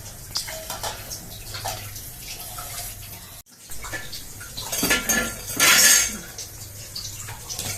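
A lid goes onto a cooking pot in a home kitchen, with short metallic clanks and clatters, a brief silence, then more rattling and a burst of hissing close by.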